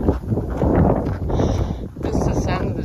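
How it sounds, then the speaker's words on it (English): Strong wind gusts over dry grassland at a pond in Henry W. Coe State Park, buffeting the microphone with a loud, steady rumbling roar while a person talks over it. "And it is hecka windy."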